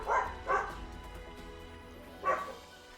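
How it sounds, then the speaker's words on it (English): Several dog barks in a video game, three sharp bursts spaced over a few seconds, moderately loud against a quiet background hum. "I'm so sorry about the dogs"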